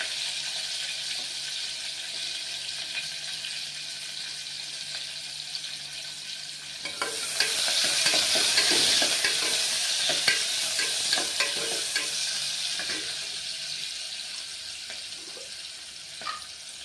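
Sliced onion starts frying in hot tempered oil in a pan for a Telugu sorakaya senaga pappu curry, faint at first, then a sudden, steady sizzle with scattered stirring clicks, no voices.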